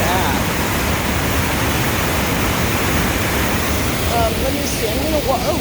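Steady loud rush of Yantic Waterfalls swollen after storms, a broad continuous roar close by, with a person's voice faintly heard over it near the end.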